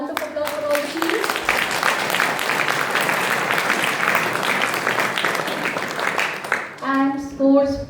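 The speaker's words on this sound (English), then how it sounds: "Can we have a good round of applause for all the teams?" An audience at an Independence Day quiz applauds the teams, with a burst of steady clapping in the middle, flanked by speech at the start and a voice talking again as the applause ends.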